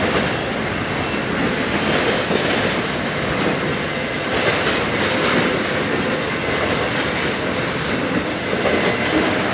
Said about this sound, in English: Pretty long Z train.